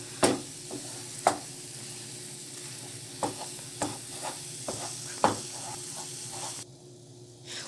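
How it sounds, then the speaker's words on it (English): Choux pastry dough for profiteroles is stirred in a pan, with a steady soft sizzle under sharp, irregular scraping knocks of the spoon against the pan, close up and with no talk. "Continue to stir until the mixture forms a mass."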